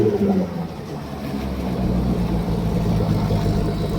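A 2020 Mercury Verado 250hp outboard starts up after an impeller change and settles into a steady, loud running drone, close by and without pause.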